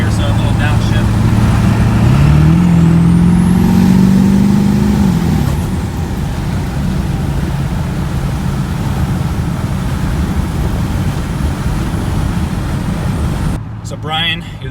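600hp Ford OBS 7.3 diesel truck downshifting, a loud, close engine drone that rises in pitch as it shifts, then settles into a steady rumble with a brief clunk near the end.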